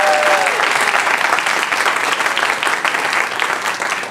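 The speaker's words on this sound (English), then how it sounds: "Can we give them already a round of applause for wanting to do this concert?" An audience at a school band and orchestra concert applauds two orchestra students, loud close clapping that fills the room steadily throughout, with a brief voice at the very start.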